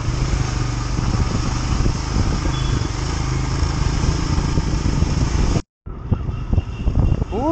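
A motorcycle engine hums steadily while riding on a road trip to Kohima in Nagaland, close and continuous under wind, with a short break before the engine noise resumes with more varied tones.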